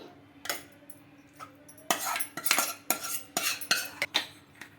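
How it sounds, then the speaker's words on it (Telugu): A spoon scrapes and clinks against a jar as cooled, coarse tomato pulp is added for tomato chutney, in quick irregular bursts of metallic clatter, close up and with no voices. "చల్లారిన టమాటా గుజ్జు అయితే వేస్తున్నానండి"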